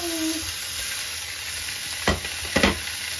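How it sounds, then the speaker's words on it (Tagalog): Pork sautéing in hot oil over high heat for adobo, a steady close sizzle with a couple of short louder stirring scrapes near the end. "we're going to saute naman yung ating pork"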